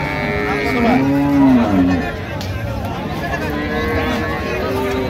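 Dairy cows and calves moo at a busy rural cattle market, with a drawn-out bellow up close and further lowing, over steady crowd chatter and voices.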